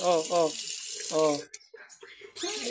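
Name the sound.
water running from a tap while washing rice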